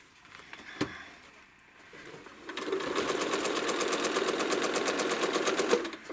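A home sewing machine stitches ruler-work quilting on a roughly 40-inch square quilt, starting after a short quiet pause with a click, then running in a fast, even mechanical chatter for several seconds, close and loud.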